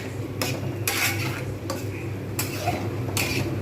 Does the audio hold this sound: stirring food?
yes